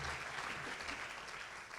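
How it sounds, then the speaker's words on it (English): Steady applause from a crowd of parents at a high school senior awards ceremony, a dense even wash of clapping that carries on throughout without pause. "Give yourselves a round of applause,"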